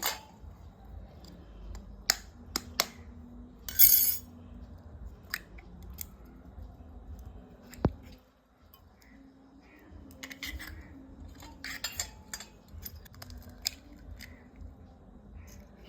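Two eggs are cracked into a bowl, heard as a scattered series of sharp taps and crisp clicks separated by quiet pauses, close by with no talking.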